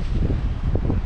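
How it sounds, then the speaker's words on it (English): Steady low rumbling wind buffets the microphone over open water during a white perch fishing outing from a boat, a continuous loud gusting roar with no voices. "the wind is getting worse"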